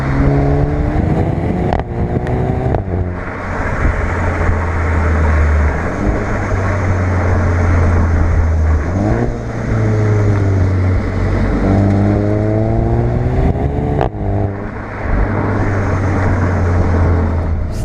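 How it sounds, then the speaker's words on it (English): A VW Golf GTI Performance engine roars through several quick DSG gearbox upshifts, with brief sharp pops and crackles from the exhaust at each gear change. "You get some nice little DSG farts coming out the back."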